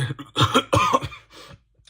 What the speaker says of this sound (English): I also had to cough, and that's what happened.